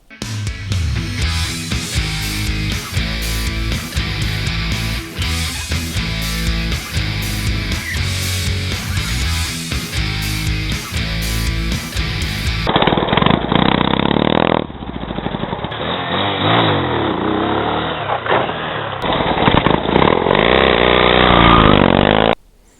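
A XGJAO EN150 motorcycle engine runs loud and steady at close range, its rhythmic throbbing rising into stronger revving partway through and then cutting off abruptly.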